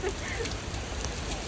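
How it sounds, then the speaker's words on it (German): Heavy rain drums steadily on surfaces in London, a dense, even hiss with no breaks over a short stretch. "Es regnet wirklich wie Arsch."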